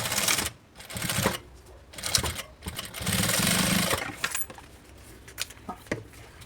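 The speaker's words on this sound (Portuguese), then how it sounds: "Vou passar uma costura aqui pra prender do jeito que ele tá aqui." A sewing machine stitches a seam through a medium backpack's lining in rapid bursts, its motor whirring loudly between short pauses and clicks as the fabric is repositioned.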